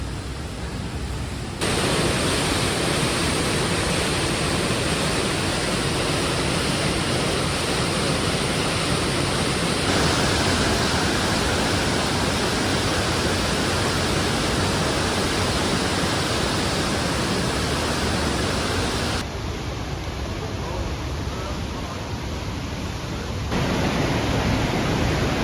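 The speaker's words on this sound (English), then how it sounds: "Really cool waterfall." A glacier-fed waterfall in Switzerland's Jungfrau region roars steadily and loudly, a dense unbroken rush of falling water with no voices, its tone shifting slightly partway through.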